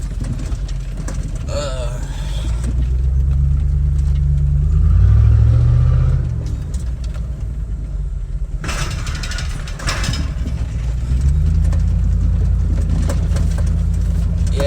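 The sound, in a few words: Chevy truck engine driving through mud holes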